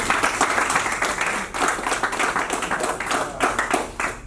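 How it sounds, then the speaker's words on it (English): A crowd claps and cheers continuously for a basketball team receiving an award, dense and fairly close, with a few whoops mixed into the steady applause. "y'all give yourselves a round of applause"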